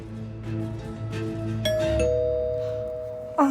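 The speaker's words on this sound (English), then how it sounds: "is that the doorbell?" A doorbell gives a single two-tone ding-dong chime that rings out clearly and fades slowly over a soft musical backing, with no voices.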